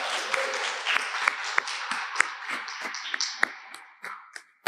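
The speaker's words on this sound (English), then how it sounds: "So could we clap one more time for him?" Conference audience clapping, a sparse smattering of individual claps with scattered sharp taps rather than a dense roar, moderately loud and fading out near the end.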